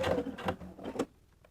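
A sewing machine stitches in the ditch along a shirt yoke, giving a few short mechanical bursts of whirring over about a second before fading to quiet.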